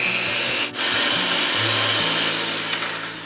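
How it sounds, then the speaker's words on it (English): An electric mixer whips egg whites for coconut macaroons, a loud, steady motor whir close by with a brief dip and slight pitch shifts as the speed changes, with no voices. "we're just gonna start mixing the egg whites"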